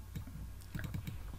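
Several quick, close computer mouse clicks in a short cluster, crisp and dry, with no one talking.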